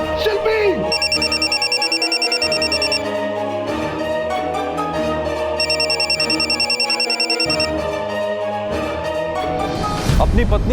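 A mobile phone rings with a repeating electronic ringtone pattern in bursts, playing over dramatic background music in a tense household scene.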